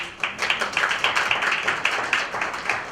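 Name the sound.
audience applause welcoming guests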